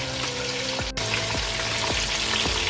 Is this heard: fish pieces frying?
yes